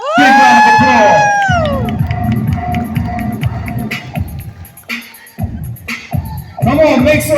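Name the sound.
audience applauding and cheering at a performance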